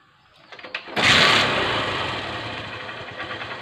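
A motorcycle with a newly connected CDI unit, being checked for an ignition fault, cranks with a few short bursts, then catches and settles into a steady, fairly loud idle close by.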